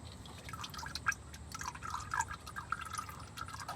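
Motor oil draining from an Infiniti G37 during an oil change, a steady close trickle with scattered drips and splashes into a pan, no talking.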